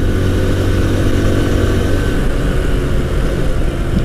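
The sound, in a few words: TVS Apache RTR 160 2V motorcycle riding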